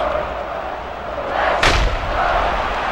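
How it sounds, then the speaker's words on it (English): A bat cracks against a foul ball in MLB 2K5, a single sharp knock about midway through, set over a steady murmuring stadium crowd. "Now a swing and a ball hit foul."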